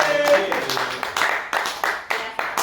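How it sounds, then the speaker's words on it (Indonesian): A handful of sharp, separate hand claps land near the end of a short stretch, mixed in with conversational voices in an informal Indonesian talk setting. "Tepuk tangan, tepuk tangan, tepuk tangan."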